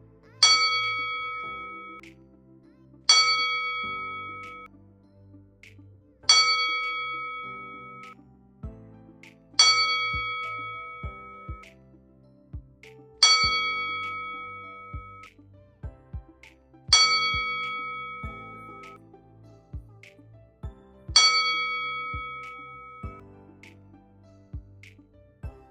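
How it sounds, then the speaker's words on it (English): A single ringing bell, struck for a ten-bell memorial salute, sounds seven evenly spaced strikes about three seconds apart. Each clear metallic ding rings out and decays alone against near silence. "Let's give it a quick 10 bell salute"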